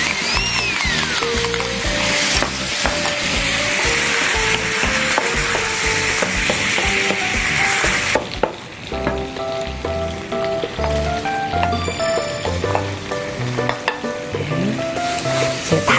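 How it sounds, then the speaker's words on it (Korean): Garlic being stir-fried in a pan until golden for a stir-fried anchovy side dish: a loud, continuous sizzle with steady stirring scrapes throughout, close by, with no talking. "마늘이 어느 정도 좀 이렇게 노릇노릇하게 볶아지면"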